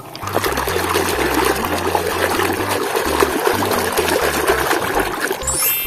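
Water runs and trickles steadily throughout while superhero toy masks, including Ultraman Zero and Ultraman Ginga, are washed, a close continuous splashing flow under background music.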